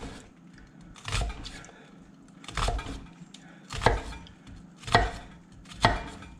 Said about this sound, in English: hold the onion with my thumb and my middle finger and make vertical cuts